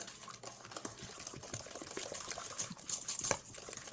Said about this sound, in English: It's a 1/2 cup of oil that we want to add to the mix. So give that a good stir.